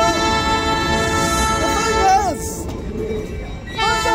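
A train slowly pulls away, with a sustained whine and steady rolling rumble and a brief horn-like toot partway through, heard from nearby with voices in the background.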